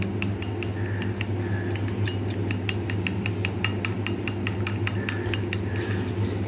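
Eggs are beaten with turmeric powder and salt in a bowl for an omelette curry, giving rapid, steady metallic clinks of utensil against the bowl, loud and close, continuing throughout.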